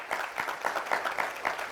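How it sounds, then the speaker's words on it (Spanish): Applause for the Lord during a Spanish-language church service: a steady wash of hand clapping from a congregation, fairly loud and continuous with rhythmic bursts throughout, no talking over it. "Dale un fuerte aplauso al Señor, hombre."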